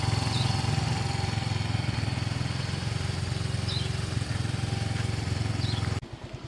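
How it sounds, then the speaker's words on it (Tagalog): A Yamaha Mio i 125cc scooter engine warming up, idling steadily nearby with a fast, even putter, then cutting off abruptly near the end. "Para mag-init yung makina."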